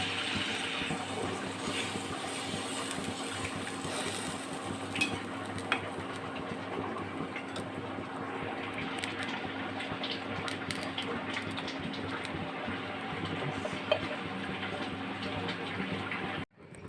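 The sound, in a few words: water poured into fish curry in pan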